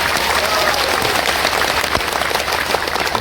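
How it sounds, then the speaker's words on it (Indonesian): Crowd applause for an event's organizing committee at a live religious gathering, a steady dense wash of clapping held at an even level throughout, with no clear breaks. "Tepuk tangan untuk panitia."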